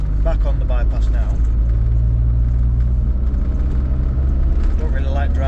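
Land Rover Discovery 1 cruising on a bypass, running with no front prop shaft and in diff lock, a loud steady engine and road drone heard from inside the cabin with a constant low rumble throughout.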